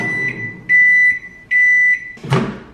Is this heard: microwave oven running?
yes